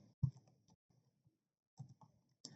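Sharp mouse clicks in short bursts, including a quick double click, tapped out at a desk while working in an Excel 2021 spreadsheet; near and fairly quiet, with soft handling noise between the clicks.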